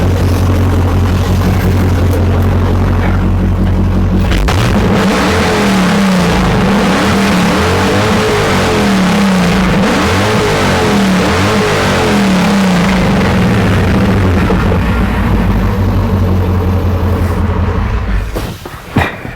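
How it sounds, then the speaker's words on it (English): A Dodge Challenger's engine revs hard and loud for a long stretch close by, a deep sustained roar with rising and falling throttle, then settles back toward the end. "Just from revving it up"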